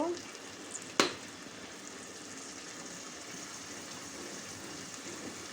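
Ground turmeric, chili, coriander and cumin go into a pan of frying loitta fish curry. A single sharp clack sounds as they are added, then a moderate, steady sizzle continues underneath.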